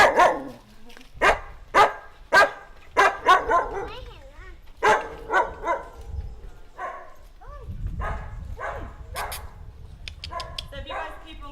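A nervous female dog at an animal welfare shelter barks repeatedly in sharp, loud bursts, with some whining yips in between, while people talk nearby.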